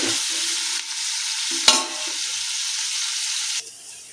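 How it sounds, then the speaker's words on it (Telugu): Ingredients frying in hot oil and being stirred, a loud steady hiss with a sharp metallic clink of the spoon midway, heard up close and alone, cutting off abruptly near the end. "ఇది ఆయిల్లో బాగా ఫ్రై అయినంత వరకు ఆపాలి."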